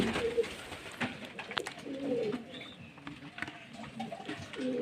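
Pigeons coo softly nearby in a loft during hot summer weather, their low murmuring calls mixed with a man's speech and light rustling and tapping sounds.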